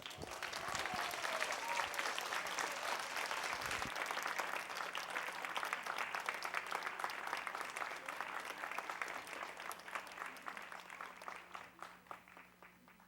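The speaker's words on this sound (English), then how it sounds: "Please help me congratulate Min So Kim." An audience at a Korea International School elementary concert and awards ceremony applauds for a student, dense sustained clapping from a full room that holds steady and then thins and fades out toward the end.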